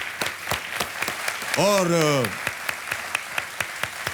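Studio audience applause on the Kaun Banega Crorepati quiz show: steady clapping runs throughout, and a voice speaks briefly over it partway through.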